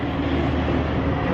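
A train in a lifted-truck driving video game rumbles steadily while being ridden, a dense continuous rolling roar with no talk over it.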